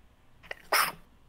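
A single sharp sneeze bursts out close by after a brief intake of breath, loud and abrupt, then fades quickly into quiet.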